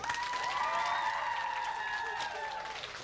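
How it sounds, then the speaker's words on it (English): Audience at a live magic and mind-reading show clapping for the performer Ezra, a steady, fairly loud burst of applause with some cheering and tonal voices or music woven through it, easing off slightly toward the end. "Clap your hands for the amazing Ezra."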